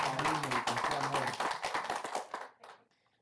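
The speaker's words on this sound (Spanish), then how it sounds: "Un aplauso a esos hermanos que con cariño y con amor" Applause and clapping ring out in a church service for the congregation's musicians, a dense run of claps that thins and fades toward the end, with music or voices underneath at first.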